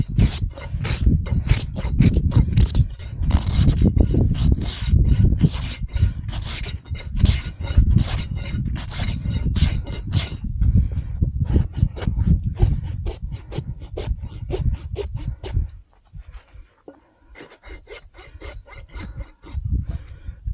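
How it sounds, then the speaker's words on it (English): A farrier's rasp files a jack donkey's overgrown hoof in quick, steady back-and-forth strokes, loud and close, with a short pause before the last few strokes. "Rasp."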